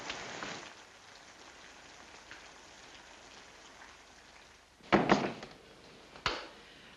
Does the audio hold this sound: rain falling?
yes